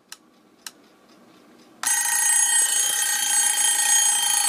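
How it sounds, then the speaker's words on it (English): Two faint ticks, then the loud mechanical bell alarm of a 1965 Westinghouse H968PLA/B clock radio bursts into continuous rapid ringing that holds steady to the end. "traditional bell alarm, if you want to wake up to that instead of music"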